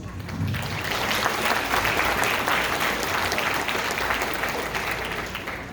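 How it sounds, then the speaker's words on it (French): Sustained applause from a crowd at a university graduation ceremony in Haiti, steady and dense clapping lasting several seconds without pause. "Il faut les applaudir aussi."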